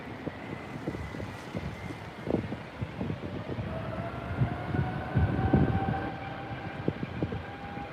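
A taxiing Airbus A320 at Heathrow gives off a rising engine buzzsaw drone, steady sustained tones climbing over a rumbling airport background, moderately distant with no talk.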